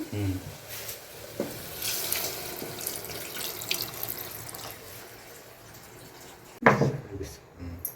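Water poured into a pan of sizzling mutton curry, a loud gush near the end following steady frying and clatter, in a village home kitchen.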